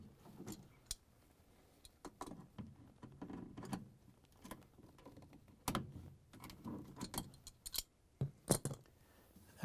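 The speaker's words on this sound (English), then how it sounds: "Next, I'm going to use the pliers. I'm going to move these two clamps." Pliers work hose clamps on the drain pump of a Whirlpool, KitchenAid or Maytag washer, producing quiet, sparse metallic clicks and scraping ticks in irregular bursts with soft handling noise between them.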